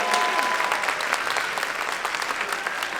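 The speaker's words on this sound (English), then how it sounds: "Can you give her a round of applause?" Enthusiastic audience applause for a majorette team coach at a Southfield A & T Warriors school event, a continuous close crowd of clapping hands with scattered cheers throughout.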